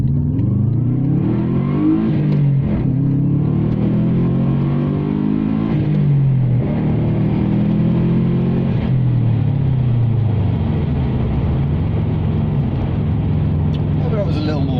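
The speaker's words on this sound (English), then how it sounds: "I think we better do one last acceleration test just to remind me how horribly noisy this car is." A horribly noisy car is driven hard in an acceleration test, its engine climbing in pitch through several gears with a loud, rising drone and brief dips at each change, heard from inside the cabin.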